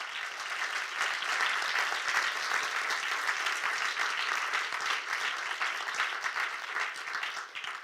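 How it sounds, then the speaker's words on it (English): Audience applause for panelists at a policy lab event on digital sovereignty, a sustained round of many hands clapping at moderate distance, steady and fairly even for nearly eight seconds with no talk over it. "Maybe we can get another round of applause."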